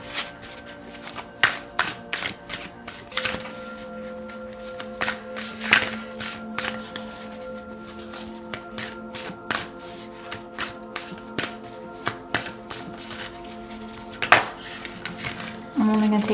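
Tarot cards are shuffled and handled up close, a series of crisp riffling snaps and slaps in an irregular rhythm, with a voice speaking at moments.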